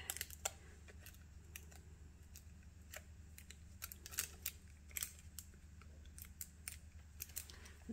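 Blunt scissors snipping, a series of quiet, sharp clicks and cuts at irregular intervals over a low background hum, close and faint.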